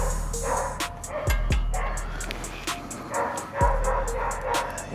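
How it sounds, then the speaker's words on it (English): A dog barks in quick repeated yips at a barn car build, sharp bursts spread through the scene over low background noise and faint clatter, somewhat distant, with no speech over them. "Of course, the dog wants to bark."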